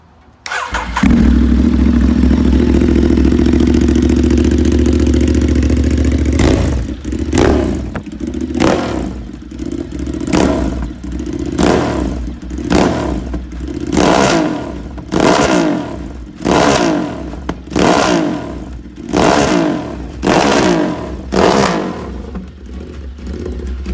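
A Ducati Hypermotard 939 SP motorcycle engine starts, settles into a loud close idle, then is blipped repeatedly in sharp rhythmic revs.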